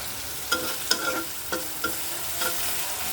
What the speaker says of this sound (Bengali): মাছটা একটু ভালো ভাজা হবে